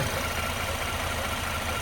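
A car engine idles smoothly and evenly, a steady close rumble with a constant hum and no change in pace across the short stretch.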